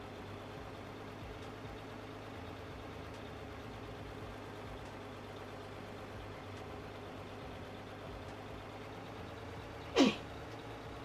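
A single sharp sneeze cuts through a steady outdoor background hum at a hydro project dam site, brief and fairly close, with no talk around it.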